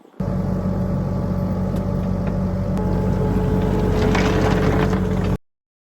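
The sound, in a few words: skid steer engine running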